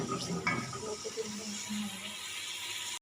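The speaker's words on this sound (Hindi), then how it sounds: "2 से 3 मिनट हम इसे भूनेंगे" Moong dal is stirred and roasted in a pan, giving a soft, scratchy hiss of grains moving against metal with a brief clatter near the start, before cutting off abruptly.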